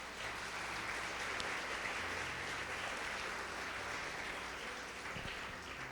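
A church congregation claps together in praise during a sermon. The applause is a continuous, even roar of many hands that holds steady throughout with no voices on top.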